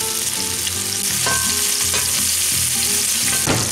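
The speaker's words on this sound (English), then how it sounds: "So we're pretty much just browning these on both sides" Salisbury steaks browning in a hot pan, a steady close sizzle and crackle of frying meat with occasional scraping stirs.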